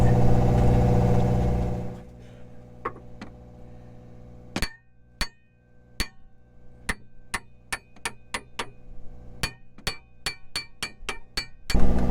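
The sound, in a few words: tapping an anchor winch assembly with a tapper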